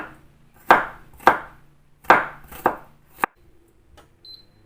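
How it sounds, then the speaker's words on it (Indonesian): A knife chops garlic on a cutting board in five sharp, evenly spaced strikes, each with a short ringing decay. The strikes are close and fairly loud, the last one clipped and brief, followed by quiet. "Lalu kita akan potong semua bawang putih ya pemirsa."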